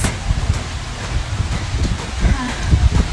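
Gusty storm wind roars and buffets against the microphone in a typhoon in China, a steady rushing noise with rustling, loud and close.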